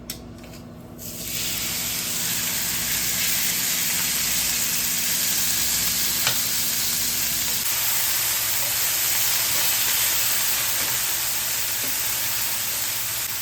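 A steady, loud sizzle of chicken frying in a pan fills the clip continuously after a brief quiet start, with no voices.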